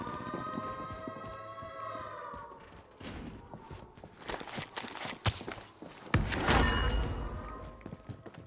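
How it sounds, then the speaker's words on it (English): Footsteps from a player moving in Call of Duty: Modern Warfare on Rebirth Island start as a quick, regular run of light steps. Heavier thuds and louder bursts follow near the end. "I heard footsteps"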